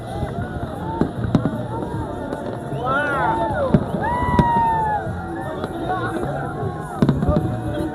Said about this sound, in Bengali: বোটের মধ্যে আর কি ফুটাইতে আছে, ছাড়তে আছে আর কি, দুরুম দুরুম।